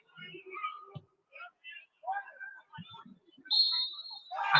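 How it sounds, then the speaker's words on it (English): Referee's full-time whistle at a Biggleswade United football match, a sustained high whistle blast near the end, following scattered commentary speech and crowd noise. "That is the full-time whistle."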